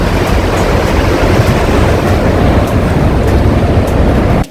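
Water rushes at the confluence of the Dhauli Ganga and Alaknanda rivers at Vishnuprayag, a loud, steady, unbroken roar that fills the whole stretch and ends abruptly.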